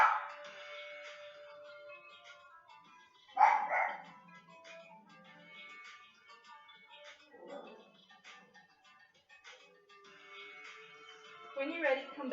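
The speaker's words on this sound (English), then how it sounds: "You can hear my dog barking." A pet dog barks a few times at a distance inside a room, short yips that come through in spots under a woman steadily giving instructions for a home workout.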